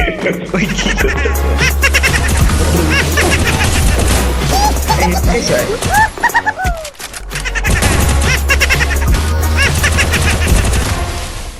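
Rapid automatic gunfire and bursts of shots from a shooting video game, with headshots, crackle loud and dense through most of the stretch, broken by a brief pause before firing resumes.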